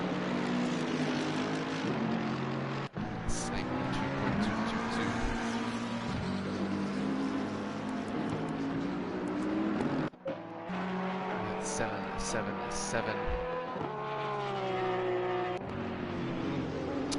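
GT3 race cars at Zolder, a Porsche chasing a Bentley, roar past in a sustained, loud engine drone with shifting pitch and brief dips, under continuous live commentary.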